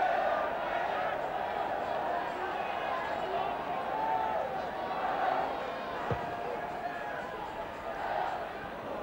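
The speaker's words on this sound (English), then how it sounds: "Just listen to this crowd." Large football crowd at a Wales v Austria match, a continuous roaring wash of voices swelling and easing, heard from within the stadium, with a commentator's voice over it.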